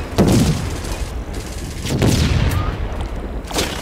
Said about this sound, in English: Like five grenades came out of nowhere and got me.